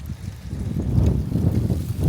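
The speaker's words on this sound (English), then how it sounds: "So sorry if my camera is picking up some wind." On a windy day on the side roads of Georgia, wind buffets a camera microphone, making a steady, loud, low rumble and roar that swells slightly throughout, with no talk.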